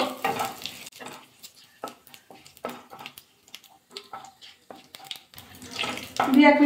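Whole cumin, two dried red chillies and a torn bay leaf crackle in hot oil for a Bengali wedding-style mixed veg dal, stirred with scattered scrapes and sizzles that swell louder near the end.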